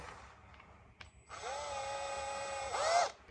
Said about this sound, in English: We're going to drill it out now.